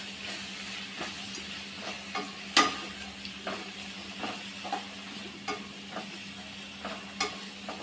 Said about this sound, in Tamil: இப்போ இது எல்லாத்தையும் காயலாம் ஒரு 2 நிமிஷத்துக்கு மட்டும் நம்ம வதக்கி விட்டுக்கலாம் அந்த எண்ணெயிலேயே.